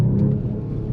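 A Mercedes-AMG CLE 53 Coupe engine gives a deep, steady rumbling growl that stays loud and close for the whole second, with no voices over it.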